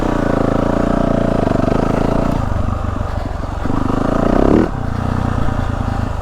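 A 2023 Yamaha YZ450F dirt bike set up by RideWorx rides a dry, choppy motocross track, its engine droning steadily close by, easing off near the midpoint, then revving harder and dropping again.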